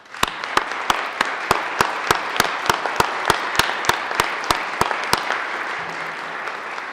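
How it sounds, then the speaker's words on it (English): In the Colorado Senate chamber an audience claps to welcome visiting Civil Air Patrol wing commanders, a steady run of sharp, evenly spaced claps over softer background clapping that fades toward the end. "join me in applause and welcome them"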